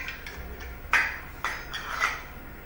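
Metal bowls are picked up and set down in a quiet room, making about four or five close, light clinks and taps spaced irregularly.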